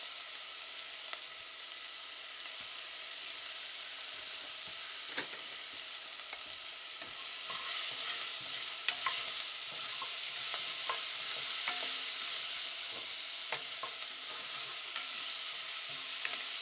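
Finely chopped shallot fries in a pan, giving a steady, close sizzle with scattered crackles and light stirring clicks throughout.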